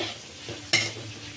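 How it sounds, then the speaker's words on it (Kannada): Capsicum and other vegetables for egg fried rice fry in a pan, a low sizzle broken by one sharp scrape of a stirring spoon partway through. "ಕ್ಯಾಪ್ಸಿಕಮ್ ಸ್ವಲ್ಪ ಚೆಂದ ಫ್ರೈ ಆಗೋಗ್ಬಿಡ್ಲಿ, ಅಷ್ಟೊಂದು ತರಕಾರಿನೂ ಫ್ರೈ ಆಗುತ್ತೆ."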